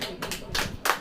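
A church congregation claps during a sermon, a few quick bursts of hand claps in an uneven rhythm, fairly close and loud over a low murmur.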